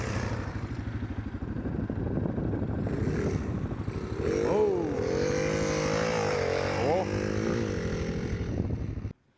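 A Yamaha XT350 dirt bike engine runs close and loud with a steady, rough single-cylinder idle, rising into a couple of revs midway before cutting off abruptly at the end.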